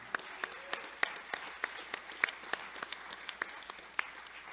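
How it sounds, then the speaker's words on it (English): Sparse clapping from a small audience at a mayoral candidate forum, individual claps spaced out and fairly distinct, quiet and slightly distant, with a faint voice briefly in the background. "how about we give Paige a round of applause for putting this on"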